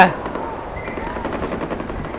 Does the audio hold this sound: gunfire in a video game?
yes